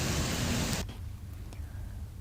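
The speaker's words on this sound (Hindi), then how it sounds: "राजधानी रायपुर में भी झमाझम बारिश होती रही।" Heavy downpour in Raipur, a loud dense hiss of rain for under a second that cuts off abruptly, leaving a quieter low rumbling background.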